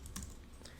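Typing on a computer keyboard while entering a chart label in Power BI: a few soft, quick key clicks, close and faint.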